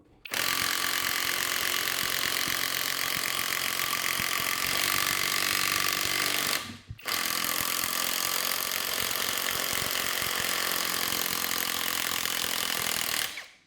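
A 21V impact driver runs on its high torque setting in two long bursts of loud, rapid hammering whine, each lasting several seconds and separated by a brief pause, with no voices.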